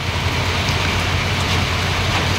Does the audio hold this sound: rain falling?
yes